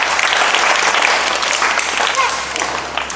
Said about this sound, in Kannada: ಎಲ್ಲ ಚಪ್ಪಾಳೆ ತಟ್ರಿ ನಮಗೆ